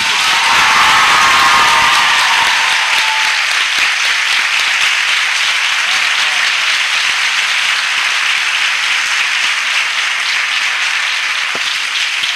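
A church congregation bursts into loud, enthusiastic applause that holds steady for the whole stretch, with a few scattered whoops and cheers above the dense clapping.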